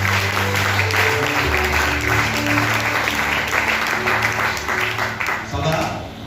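A church congregation applauds and cheers in acclaim, a loud sustained wave of clapping mixed with voices and shouts that eases off slightly toward the end.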